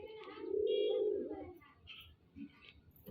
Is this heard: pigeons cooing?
yes